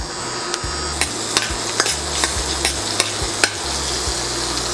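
Butter and oil sizzle steadily in a hot pan, a dense continuous frying hiss broken by light repeated clicks of a utensil against the pan, close and alone with no talking.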